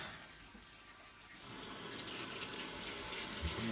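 A Hotpoint Supermatic Deluxe S9414 washing machine draws in water for its final rinse, a steady rushing hiss that swells louder partway through and runs on without pause.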